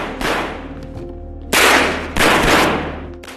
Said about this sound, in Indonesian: Tapi yang lain mencoba melawan hingga baku tembak pun terjadi.